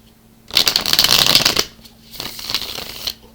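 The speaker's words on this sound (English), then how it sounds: "just 2 more shuffles left to go." Tarot cards being shuffled in two bursts, a long dense riffling flurry followed by a shorter, softer one, close and clear with no talking.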